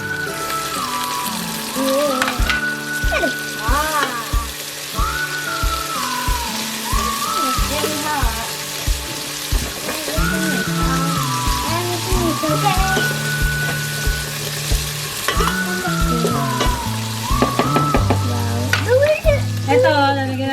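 Tomatoes dropped into a hot pan for mung bean stew crackle and sizzle, partly buried beneath loud rhythmic background music with a driving beat.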